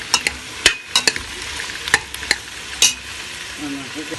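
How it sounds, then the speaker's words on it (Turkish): Quick scraping and clinking of a utensil stirring carrots and potatoes frying in a pot, with a faint sizzle of frying underneath. "Tekrar böyle bir karıştırıyoruz biraz onu."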